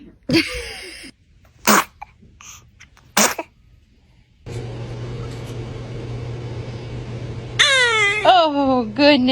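A newborn baby lets out several short, sharp sneezes and small vocal squeaks close to the microphone, followed by fussy crying, with gaps of near silence between bursts.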